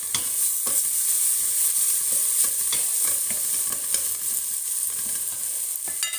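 Ingredients frying in a pot for a barley and celery harira soup, a steady close sizzle with repeated sharp stirring scrapes throughout, no voices.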